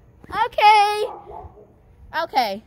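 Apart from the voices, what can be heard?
dogs barking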